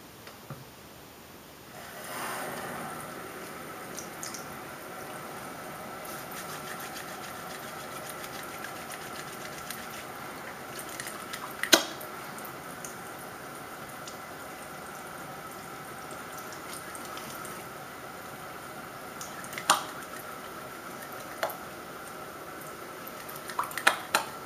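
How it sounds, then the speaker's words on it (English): Water running steadily at a salon while hair is rinsed, a soft continuous spray with occasional faint clinks and drips, close and quiet. "Time to rinse you off."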